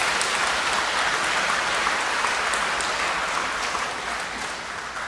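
Concert hall audience at a Korean art song anniversary concert applauding the composers, a thick sustained wash of clapping from many hands that holds steady and eases slightly toward the end.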